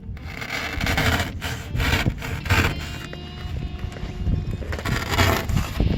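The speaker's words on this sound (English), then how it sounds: "I've been using a keyhole saw." A keyhole saw cuts through foam insulation during steel truss building construction, giving steady, close rasping strokes in a continuous rubbing rhythm with no talk.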